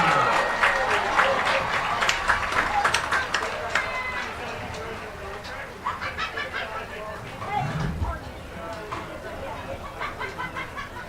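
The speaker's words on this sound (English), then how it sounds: "Please join Coach Steve Mountain Lions football team in a huge applause for Tom Hite, class of 1985." A stadium crowd at a high school football game applauds and cheers, a broad wash of clapping and crowd noise heard beneath an announcer talking over the public address.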